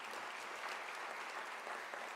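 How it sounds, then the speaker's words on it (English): A crowd claps continuously at a university graduation ceremony, an even wash of applause heard at moderate distance with no voices standing out. "I think it deserves a round of applause."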